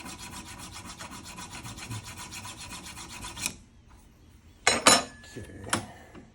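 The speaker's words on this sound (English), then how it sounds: "So I take a file, take the sandpaper, and just freshen things up a bit." Metal of a handmade Boxcar jaw harp worked with a file in fast, rhythmic rasping strokes, then a pause and a few rougher scrapes of sandpaper, close and fairly loud.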